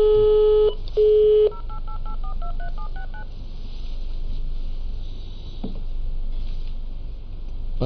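Two short busy-signal beeps give way to a quick run of DTMF keypad tones as a number is punched in on a telephone, followed by faint line hiss and a couple of soft clicks.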